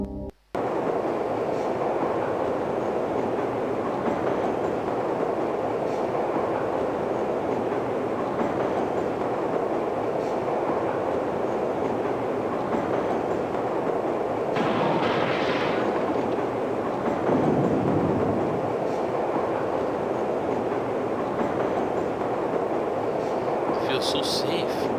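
A maintenance transport tram in The Journeyman Project: Pegasus Prime game rolls steadily through a tunnel, a continuous loud rumble with faint clattering, brief louder swells midway and a few short high accents near the end.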